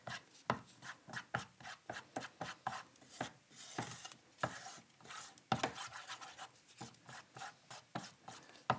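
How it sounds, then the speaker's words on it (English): Paint mixture is stirred in a container, giving quiet, rhythmic scraping and rubbing strokes that repeat steadily and close by, with no talk. "let's stir all this together now and see what we are going to get"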